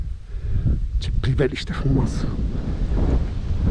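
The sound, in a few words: wind blowing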